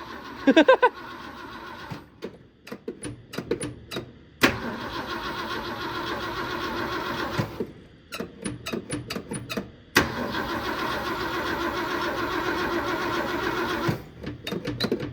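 A car engine cranks and catches several times, each start settling into a rough, steady idle up close, with clicks and brief mechanical taps between attempts.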